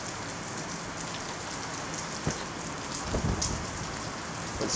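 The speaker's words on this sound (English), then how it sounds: "A lot of rain, a lot of wind." Heavy rain from Hurricane Irma pours steadily as a dense, even hiss, with gusting wind and a couple of brief knocks and rattles close by, and no voices.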